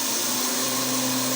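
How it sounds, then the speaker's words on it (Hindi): An electric kitchen grinder whirs steadily while grinding flax seeds, a loud continuous motor hum with bright high-pitched buzzing and no talk over it. "हम सबसे पहले अलसी को ग्राइंड कर लेंगे।"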